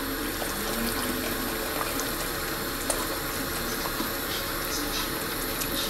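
Steady watery rushing of hot water poured from a kettle, continuous and fairly even, with faint clinks and bumps now and then.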